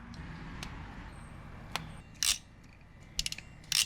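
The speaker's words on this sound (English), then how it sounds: "Now I'm gonna strip this wire." Wire stripping while installing rock lights on a Nissan Xterra produces a few sharp, close mechanical clicks and snaps, with quiet pauses between them.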